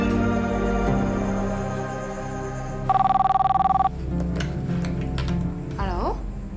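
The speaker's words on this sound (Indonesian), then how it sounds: "Coba kamu telepon dia sekarang ya" A telephone rings with one steady electronic ring burst in the middle, set against background music, followed by a short rising tone.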